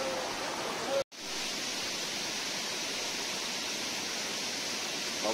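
A secret waterfall at Hamren roars as a constant, dense rush of falling water, close and steady, with a momentary cut in sound near the start.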